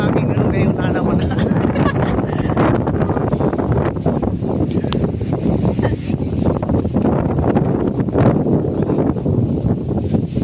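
Strong wind buffets the microphone in loud, continuous gusts, with a rustling roar throughout.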